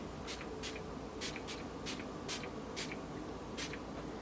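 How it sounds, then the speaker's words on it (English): Quick, crisp spritzes of Too Faced Hangover 3-in-1 setting spray misted onto a face, about nine short bursts in an uneven rhythm, close and fairly quiet over a faint background hiss. "I'm using the Too Faced Hangover 3-in-1 spray"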